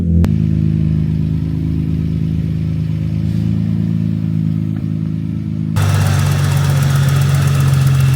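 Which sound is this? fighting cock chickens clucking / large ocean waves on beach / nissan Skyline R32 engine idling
nissan Skyline R32 engine idling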